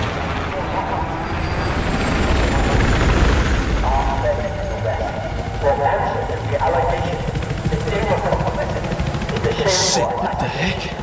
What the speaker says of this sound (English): That helo does not bode well.